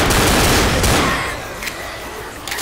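Pistols fire in the Left 4 Dead zombie shooter, a loud rapid burst of shots up front that fades into quieter scattered reports and a few sharp cracks near the end.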